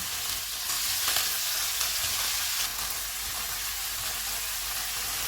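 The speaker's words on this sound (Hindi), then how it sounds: "ऑयल गर्म हो गया, इसमें कीमा डालेंगे।" Minced beef sizzles steadily in hot oil, a continuous close crackling hiss with no talking.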